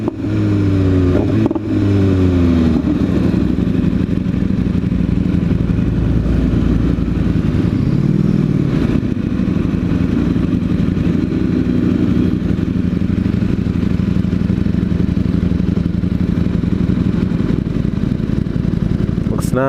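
A Ducati Streetfighter V4S motorcycle engine drones loudly and steadily while riding, a continuous close engine roar with some deeper rumbling shifts early on.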